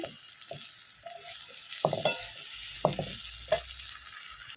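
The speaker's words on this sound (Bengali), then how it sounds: "বরবটি আলু কাঁচকলা ভাজা করেছি পোস্ত দিয়ে" Long beans, potato and green banana frying with poppy seeds, likely over a wood-fired stove, with a soft sizzle beneath a few sharp scraping stirs of a spatula against the pan.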